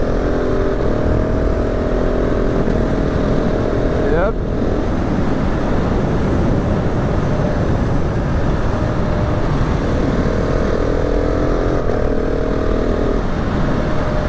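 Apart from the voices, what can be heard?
KTM 690 SMCR 2019 motorcycle engine revving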